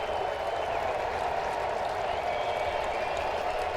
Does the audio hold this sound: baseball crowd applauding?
yes